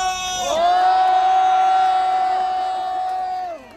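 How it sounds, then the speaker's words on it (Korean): A crowd at an anti-impeachment rally on Yeungnam University's Gyeongsan campus lets out a single long, loud, steady cheer that swells in, holds for about three seconds, then drops away. "뜨거운 박수 부탁드립니다."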